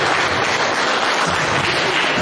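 Dense, steady applause from a crowd at a debate, a continuous wash of many hands clapping with no gaps, loud and close throughout.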